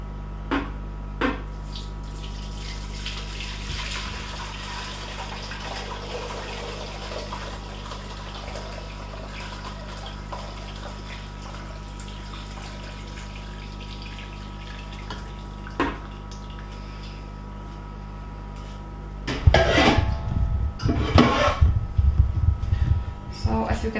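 Homemade Polish chicken broth is poured through a strainer: after a long low hum with a few faint knocks, a short burst of splashing, gurgling liquid comes in near the end, close and fairly loud.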